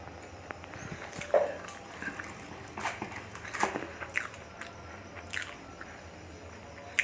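Boiled potato is mashed by hand, making soft, irregular wet squishing and squelching sounds, faint and close, with scattered small clicks and no speech.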